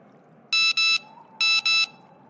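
A phone's text message notification tone sounds as two quick double-beep chimes, bright electronic pulses in pairs, fairly loud and close with no talk over them.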